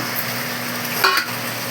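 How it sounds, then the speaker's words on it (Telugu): Broad beans (chikkudukaya) fry in a pan with a steady close sizzle and a brief stirring scrape near the middle, no voices. "చారు పెట్టి చిక్కుడుకాయ ఫ్రై చేస్తున్నాను అన్నమాట."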